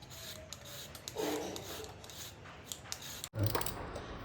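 Repeated rough scraping strokes of a peeler against carrots, close up, with a brief knock near the end.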